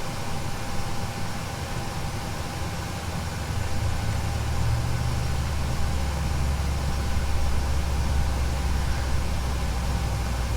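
Engine number 1 of a PMDG Boeing 737 spools up during startup in the flight simulator FSX, a steady low mechanical rumble and hiss that grows noticeably louder partway through and then holds at a constant level.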